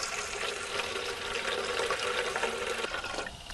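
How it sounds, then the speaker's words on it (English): Steady rush of running water pouring into a rusty old tin can, continuous and close, with a brief pause near the end. "I just fill up this rusty old tin"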